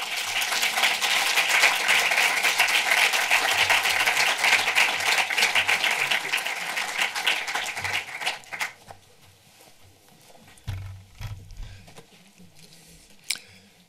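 A cinema audience applauds guest Wim Wenders with dense, sustained clapping for about eight seconds, then it thins to scattered claps and quiet rustling.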